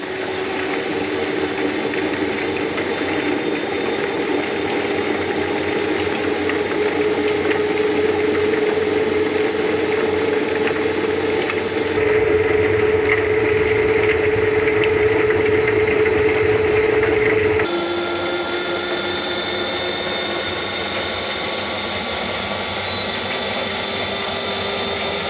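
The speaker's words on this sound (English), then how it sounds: "We'll bring this up to number 10. And 10 on this extractor is full speed." Honey extractor spinning its frames at full speed, a steady loud mechanical whir and hum with a faint rattle, shifting pitch slightly partway through as it runs on without any talk.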